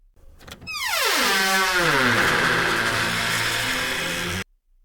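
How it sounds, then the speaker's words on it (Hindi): An old door that has stayed shut for years, pushed hard and creaking open with one long, loud, sweeping groan that bends downward and then holds before cutting off abruptly. "फिर विशाल ने जोर से धक्का दिया तो दरवाजा तेज, चरमराहट भरी आवाज के साथ खुला"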